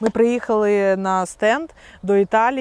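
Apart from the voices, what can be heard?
No everyday noise stands out behind the speech.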